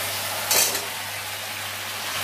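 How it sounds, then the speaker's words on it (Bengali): Potatoes and cauliflower drop into a turmeric spice paste frying in a pan, giving one brief loud sizzling burst that settles into a steady, even hiss. No one speaks. "মশলা কষা হয়ে গেছে, আমি আলু ফুলকপিগুলো দিয়ে দেবো"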